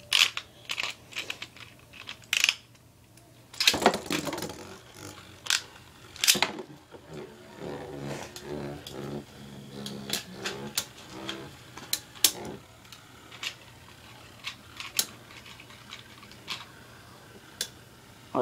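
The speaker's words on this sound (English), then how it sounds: "alright, I'm gonna actually launch Diablo Nemesis first" Diablo Nemesis Beyblade launched into a stadium, with sharp clacks and ticks as the tops spin and collide, irregular hits scattered over a steady low whir, no talking.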